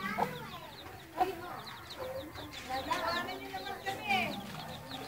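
A hen clucks softly beside her chicks, low repeated clucks mixed with a busy stream of high peeping, fairly close and quiet, with brief voices nearby.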